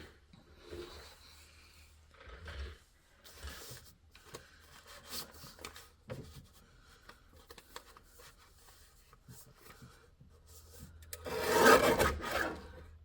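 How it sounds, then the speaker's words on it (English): A guillotine paper cutter handles paper stock with soft scraping and rubbing shuffles, then a louder rasping chop near the end slices off the bottom section of the sheet. "I'm going to bring this to my guillotine cutter, and I'm just going to chop that bottom section right off."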